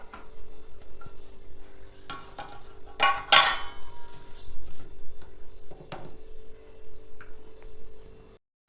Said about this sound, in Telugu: స్టవ్ వెలిగించి మట్టి గిన్నె పెట్టుకుంటాను.